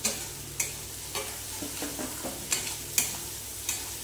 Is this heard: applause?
no